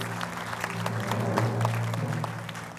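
A crowd at a panel discussion claps steadily in a dense, even round of applause, fairly close, with a low hum of voices underneath.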